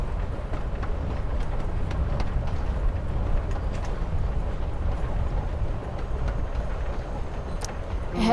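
Continuous train ride ambience from the video game Life Is Strange Before the Storm, a steady low rumble and rattle of a moving rail car with occasional faint clicks, filling the whole stretch without speech.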